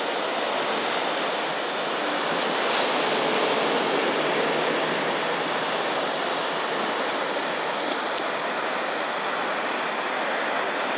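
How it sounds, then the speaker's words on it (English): A waterfall in downtown Putnam, Connecticut, in winter, rushing with a loud, steady, broadband roar that stays even throughout, with no talking. "Look at this amazing waterfall."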